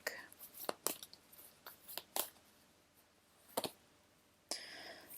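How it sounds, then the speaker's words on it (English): A deck of tarot cards is shuffled quietly up close, with scattered soft riffles and flicks in short bursts between quiet gaps. "let me just shuffle the deck real quick"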